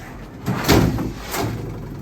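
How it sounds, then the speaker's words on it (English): Heavy drawers are pulled out of a large piece of furniture during a junk removal job, giving two dull wooden scraping slides with a soft thud, close and fairly loud, with no speech. "So I'm going to pop out all the drawers and make it a lot lighter."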